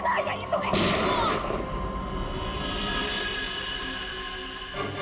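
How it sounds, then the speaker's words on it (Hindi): One sharp, loud gunshot cracks out near the start, followed by a heavy rumbling wash of dramatic background noise. "उसके बाद दूसरी गोली चली"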